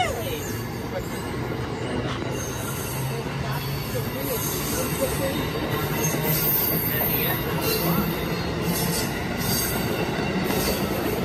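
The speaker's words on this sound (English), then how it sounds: "Did that train just go backwards?" An Amtrak train rolls through New Carrollton station with a continuous rumbling roar and faint wheel squeal, close and steady throughout, while people talk nearby.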